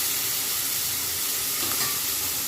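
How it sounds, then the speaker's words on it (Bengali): Shrimp frying in hot oil in a pan for a gongura chutney, a dense, steady sizzle with bright hiss throughout, loud and close with no talking. "এখন আমি চিংড়ি মাছটা ওই তেলের উপরে দিয়ে দিচ্ছি চিংড়ি মাছটা আমি অল্প করে ভেজে দেবো"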